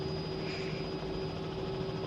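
Steady helicopter engine drone from a flight simulator, with a continuous turbine whine over thick rotor noise holding level throughout, no voices.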